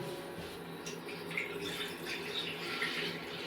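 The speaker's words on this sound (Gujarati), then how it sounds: "આપણે હવે આપણે એમાં પેલા પાણી નાખી દઈ એટલે પાણી ગરમ થતું થાય" Water poured into a cooking pot on a lit village stove, a steady broadband splash and gush running continuously at close range, with no voices over it.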